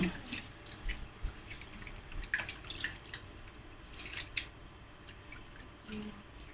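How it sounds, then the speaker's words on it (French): Rice is rinsed in water by hand, giving soft sloshing, dripping and squishing sounds in an irregular rhythm, quiet and close, with no talk. "on lave... on lave le riz. On va laver comme ça."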